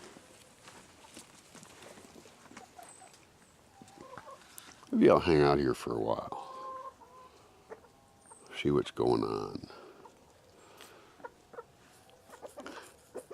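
Chickens cluck and squawk in bursts on a farm as a puppy wanders among them, with a couple of louder flurries amid quieter rustling and a person talking.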